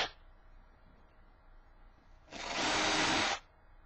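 A power drill bores holes into a plywood sculpture base on a workbench, running in one steady loud whine of about a second after a quiet pause, close up and alone.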